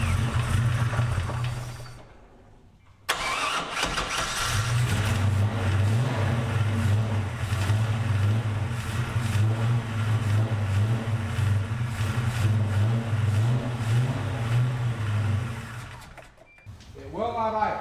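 A cold 1978 Pontiac Firebird engine runs rough and struggles to hold an idle, a loud close rumble that surges and sags, cutting out briefly near the start and again near the end.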